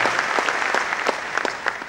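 An audience at a talk by an IAS officer breaks into sustained applause, a steady, dense wash of clapping with individual claps standing out throughout.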